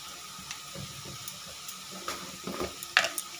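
Spices including asafoetida sizzle softly in hot oil in a pan as dal is cooked dhaba style, with quiet frying crackle, a few stirring scrapes and small pops toward the end.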